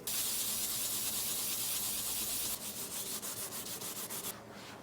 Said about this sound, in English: 1000 grit sandpaper to lay down the edges